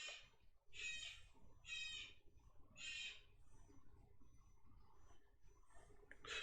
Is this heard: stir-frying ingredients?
no